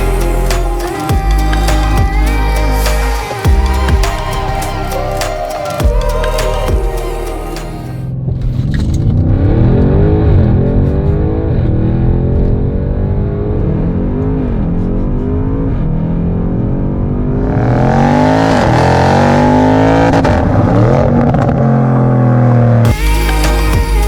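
A tuned Audi RS6 engine roars loudly, first rumbling and revving with sharp throttle blips, then accelerating hard through rising and falling gear pulls, close and alone.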